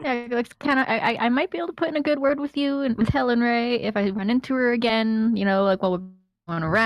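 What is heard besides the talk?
No everyday noises stand out.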